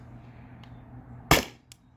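A Byrna SD pistol fires a single aluminum round, a sharp, loud crack followed by a brief decay and a faint metallic click, set against quiet room ambience.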